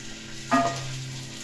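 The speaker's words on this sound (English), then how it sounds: "chopped carrot, and we have some chopped potato. And it's all going in there." A brief burst of sizzling as chopped carrot and potato, along with celery, drop into a hot pan, settling into a steady low frying hiss.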